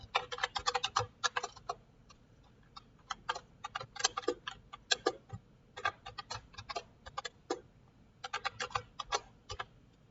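Keys clatter in quick bursts on a computer keyboard as a C program is typed, close crisp clicks in irregular runs separated by short pauses.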